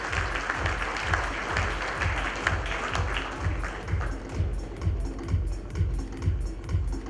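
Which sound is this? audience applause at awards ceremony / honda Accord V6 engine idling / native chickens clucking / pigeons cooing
audience applause at awards ceremony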